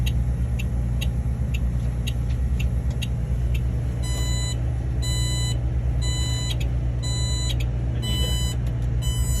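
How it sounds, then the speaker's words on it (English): A bus door-open warning buzzer sounds during a bus inspection with the mid door open, repeating electronic beeps in short regular bursts over a steady loud engine idle rumble, the beeps growing denser and clustered in the second half. "So that buzzer you're hearing is letting you know, hey, your door's open."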